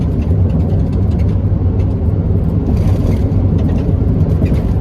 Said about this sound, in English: I'll crank it full on choke